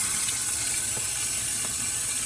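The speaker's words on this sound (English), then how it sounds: "You see that the pressure's not as tight as much, and it drops a lot of water quickly." Water pours steadily from a drop wand onto chili pepper plant containers, a continuous close, even rush of falling water with no voices.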